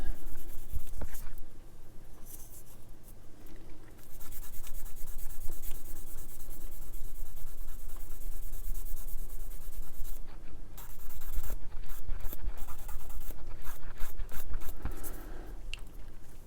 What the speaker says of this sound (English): With the seam lines, you can either sand them off like I'm doing